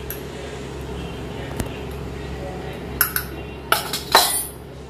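Food in a cooking pot being stirred, first quiet, then a few close metallic clinks and scrapes of a utensil against the pot toward the end over a low background hum.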